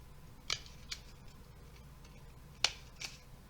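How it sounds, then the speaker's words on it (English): Scissors snip paper to a half-inch mark while making seed pots, giving four sharp, separate cuts spread over a few seconds, close and clear against a quiet room. "we're going to take our scissors and we're going to cut to that mark"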